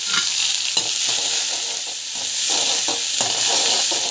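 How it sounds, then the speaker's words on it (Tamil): Mustard seeds, cumin, urad dal, chana dal, garlic and onion sizzle and crackle in hot oil in a pan while being stirred, a steady frying hiss broken by regular scrapes of a spoon. "நல்லா வந்து வதக்கிக்கோங்க"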